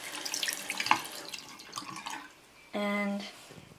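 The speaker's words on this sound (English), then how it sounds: "here's taper numero uno, which I will rinse off" An ear stretching taper is rinsed under a running tap, giving a soft splashing trickle of water amid small clinks and handling noises, faint and close, before a brief louder tonal hum near the end.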